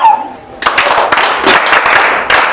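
Children in a classroom clap for their teacher, a burst of quick, uneven hand claps that starts abruptly and carries on briefly; a voice is heard faintly before the clapping begins.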